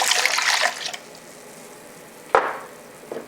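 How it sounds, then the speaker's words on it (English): White wine and apple cider vinegar are poured for a rib sauce, with a steady splashing pour for about a second, then quiet, then two short splashes near the end. "The first thing we do is add our white wine, add our apple cider vinegar,"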